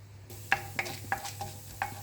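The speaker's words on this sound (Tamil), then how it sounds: "முதல்ல கொஞ்சம் உளுந்து, இது கடலைப்பருப்பு, கொஞ்சம் பொரியிட்டோம்" Urad dal and chana dal frying in a little sesame oil, with a soft steady sizzle and four or five sharp clicks of a spoon against the pan, close and fairly quiet.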